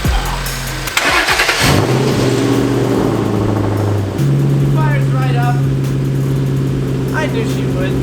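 A Ford Mustang's engine turning over and catching after a jump start, a loud, close cranking burst settling into a steady idle hum, with a voice talking over it.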